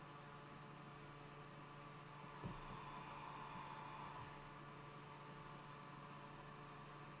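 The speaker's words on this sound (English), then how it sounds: "with these handles, you can hear the fan on the inside" A small cooling fan runs inside the handle of an AriStorm cavitation and RF beauty device, giving a faint, steady electrical hum and whir with one brief bump partway through.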